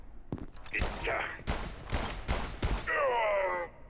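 Gunfire from a gun in the video game Abiotic Factor rings out as a rapid burst of several loud cracks, followed by a trailing tonal whine from the game.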